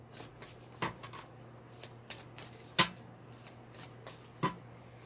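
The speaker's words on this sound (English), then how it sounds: "I felt like pulling some more tarot cards." Tarot cards are shuffled by hand at close range, soft papery riffles and light taps recurring every second or so over a faint steady hum.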